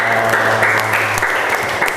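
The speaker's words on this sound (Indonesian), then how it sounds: "beri tepuk tangan" A classroom of students claps together during an Arabic lesson, a loud, dense burst of applause close by, with a steady hum underneath.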